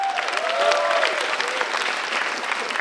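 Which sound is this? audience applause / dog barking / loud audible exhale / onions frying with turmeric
audience applause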